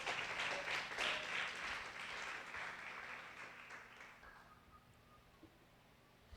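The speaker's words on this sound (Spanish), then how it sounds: "Denle ese fuerte aplauso a Jesucristo el Señor" Church congregation applauding during a Spanish-language worship service, a sustained wash of clapping that starts fairly loud and gradually fades out over several seconds, heard at a moderate distance.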